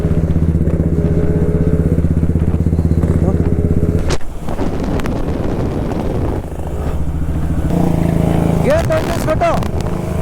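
A Yamaha RX135 motorcycle rides down a road with a loud two-stroke engine droning steadily close by. A voice speaks briefly over the engine noise, which dips and rises again as the rider changes speed.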